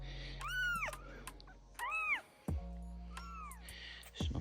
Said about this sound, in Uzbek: Bu boshqa mushuk bollari, bu boshqa mushuk bollari.